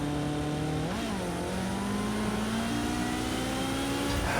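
A Ferrari F40 engine in the racing game Project Cars 2 on the Les Essarts track, a loud, continuous rev in fifth gear whose pitch dips briefly and then climbs steadily.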